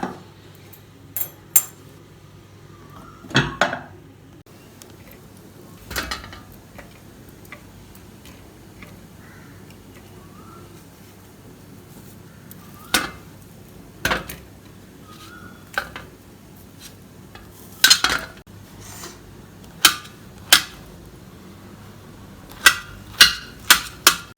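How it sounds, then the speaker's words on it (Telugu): Boiled raw banana peeled and cut into pieces for a curd chutney, marked by sharp isolated knife taps on a board, spaced out irregularly over a quiet kitchen background with a low steady hum. "అది తీసేసి పైన తొక్క తీసేసి ముక్కలుగా కట్ చేసుకోవాలి."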